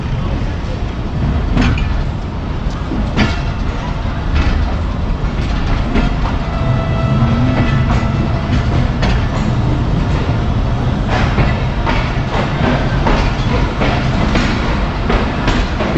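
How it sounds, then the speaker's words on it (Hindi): A train rolls along the railway at about 30 to 50 km/h through fog near Toba Tek Singh. A loud, steady rumble fills the clip, and repeated clickety-clack wheel beats run through it without pause for the whole stretch. "ट्रेन तकरीबन हद रफ्तार 55 वरना 30 से 50 के दरमियान से चल रही थी"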